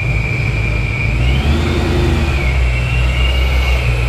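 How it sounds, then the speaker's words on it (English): A ProCharger-supercharged Ford Mustang engine idles steadily with a low, rumbling drone and a faint whine above it, close and continuous throughout. "She's idling mid."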